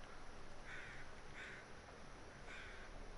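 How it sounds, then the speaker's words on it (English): Crows cawing as they fly over in the video game The Long Dark, three short hoarse calls spaced about a second apart, faint and distant over a steady wind-like hiss. "All that means is the weather's clear enough for crows to fly over."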